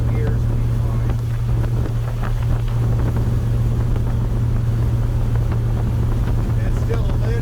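A 1956 Ford F-100 truck cruising on the highway in fifth gear, its engine a steady low drone close by with wind and road noise, loud and unbroken throughout.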